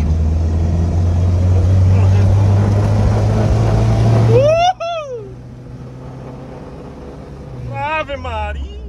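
A car engine screams at high rpm, loud and sustained for about four seconds, then cuts off abruptly and drops to a quieter idle-like hum. Rising and falling whistled tones follow near the end.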